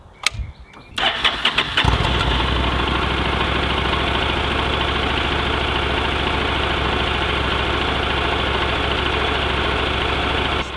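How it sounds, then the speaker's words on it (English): A 2012 Honda NC700X inline two-cylinder motorcycle cranks with a few clicks and starter whirs, catches, then settles into a steady, even idle that runs close and unbroken for several seconds. "Let's go ahead and start this bike up."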